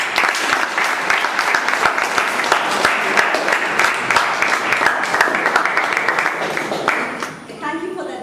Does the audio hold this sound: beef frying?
no